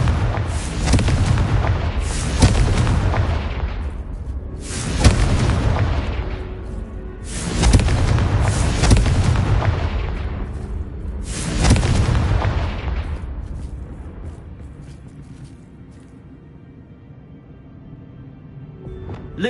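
Confringo fire-spell blasts in the Hogwarts Legacy video game, four heavy booming explosions a few seconds apart, each rolling off slowly, then a quieter rumbling tail.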